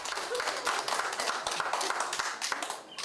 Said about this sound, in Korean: 이젠 자신이 즐기는 걸 하며 사람들의 환호까지 받습니다